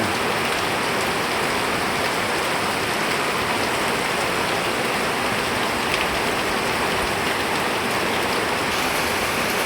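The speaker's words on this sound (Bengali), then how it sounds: "প্রচুর বৃষ্টি হচ্ছে" Heavy rain pours down in a rural setting, a loud, dense and unbroken hiss of drops on surfaces that holds steady throughout with no voices.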